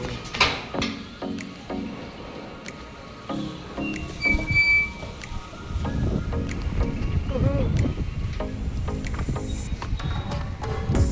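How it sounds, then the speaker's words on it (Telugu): Strong wind blowing on a bright, sunny day, a broad rushing roar buffeting the microphone and swelling louder in the second half, with brief knocks and movement noises early on. "గాలి బాగా వేస్తుంది కదా"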